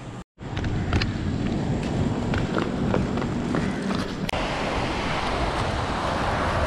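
Steady surf and wind noise on a littered beach near Trivandrum, a broad continuous roar of waves with gusting wind close to the microphone, briefly cutting out near the start.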